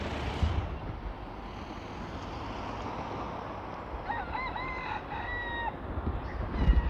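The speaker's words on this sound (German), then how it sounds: "da könnt ihr schon hören, morgens wird man hier von dem Hahn geweckt" A rooster crows in the distance over a steady outdoor ambience at a hotel's green grounds in Cala Millor, Mallorca, its call rising and wavering in the second half.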